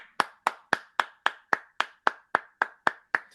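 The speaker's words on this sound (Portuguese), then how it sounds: "Salve de palmas." About thirteen sharp hand claps ring out in a steady, evenly spaced rhythm, close and crisp with brief silence between each, nobody speaking, in a football talk-show studio.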